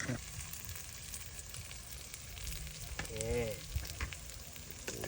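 Eggs fry in pork lard with Chinese chives, a steady close sizzle and crackle throughout, with a brief voice and a short utensil tap partway through.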